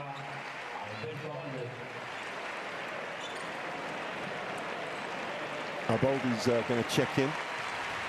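Arena crowd applauding an injured basketball player during a Spain versus Latvia EuroBasket qualifier, a steady wash of clapping under a commentator's voice, with a louder burst of speech near the end.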